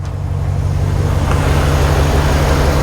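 A Dodge Dakota pickup engine with a clogged air filter runs loud and close, holding a steady, heavy rumble that rises slightly as it is revved, with no talk over it.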